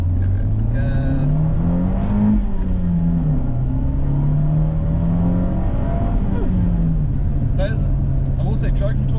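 A Fiat 124 sports car engine revs and accelerates, its tone rising, dipping and climbing again in a loud steady drone heard from inside the car.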